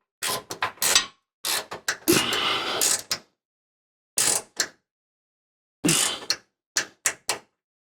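Ratcheting clicks and short sharp snaps from a torque wrench tightening bolts during an air bag install on a Ford F450, coming in separate bursts with pauses between, close and fairly loud.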